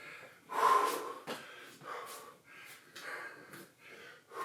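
Heavy, ragged gasping breaths during a strenuous weight workout, a series of sharp inhales and exhales repeating roughly every half second to second, close and fairly quiet.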